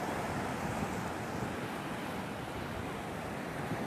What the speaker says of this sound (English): Hope it's not too windy out here.